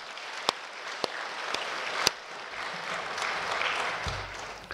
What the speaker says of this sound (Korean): 우리 다시 한번 감사의 박수 한번 하겠습니다.